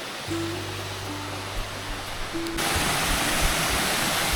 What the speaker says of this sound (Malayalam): ഗൈസ് നോക്കൂ, ചെറിയൊരു വെള്ളച്ചാട്ടമാണ് ഇവിടെ.